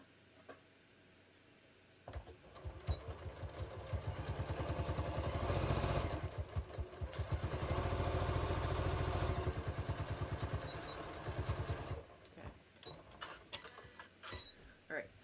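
A home sewing machine runs two sustained bursts of rapid stitching along a shorts waistband with a 1/2 inch seam, the steady mechanical chatter rising and easing between pauses, with quieter handling clicks before and after.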